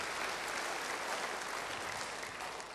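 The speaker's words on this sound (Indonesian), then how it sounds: "Beri tepuk tangan yang baik buat dia." A congregation at a church sermon claps in a faint, steady wash of applause, an even hiss of many hands heard from a distance.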